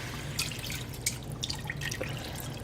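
A whole carton of vegetable broth is poured into a cooking pot for curry cauliflower tofu soup, a steady liquid trickle and splash with small drips, moderately close and heard alone.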